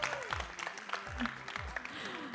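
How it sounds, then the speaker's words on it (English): An audience at an international cultural festival applauds a child on stage, with scattered claps over a hum of crowd and voices for a couple of seconds. "Let's give a round of applause for her."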